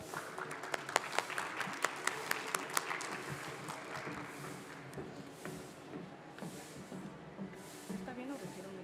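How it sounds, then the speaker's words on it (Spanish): An audience at a Mexican lecture on the history of legal medicine breaks into applause, a dense crackle of clapping with sharp individual claps early on that fades into a softer, hissing patter. "a cargo de la maestra Bárbara Martínez Leal, a quien pido un fuerte aplauso, por favor."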